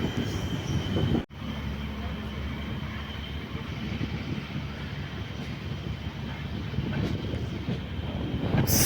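A fast passenger train runs in Kerala, its loud, steady rumble and rattling wheels filling the whole stretch, with a brief sharp dropout near the start and a faint squeal layered in.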